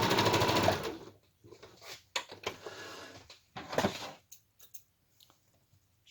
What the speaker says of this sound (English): Just stitching the edge of the pocket down at first to get ready for the next step.